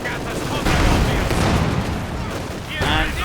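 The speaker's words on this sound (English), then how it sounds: "seeing the guns firing away" A dense burst of gunfire and explosions fills a Company of Heroes 2 battle, loud and continuous, with rapid shots overlapping throughout.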